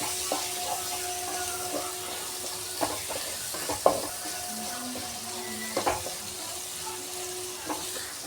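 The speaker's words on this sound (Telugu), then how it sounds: "ఇప్పుడు వేయించేసుకుందామండి. గోల్డెన్ కలర్ వచ్చే వరకు వేయించుకోవాలి." Sliced onion fries in oil for a curry gravy, a faint steady sizzle close by with occasional scrapes and clinks of a spoon against the pan, no voices.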